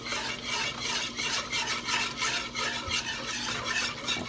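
Garlic butter Alfredo sauce is whisked briskly in a pan, a continuous rasping, rubbing swish with steady rhythmic pulses, close up and alone without any talking.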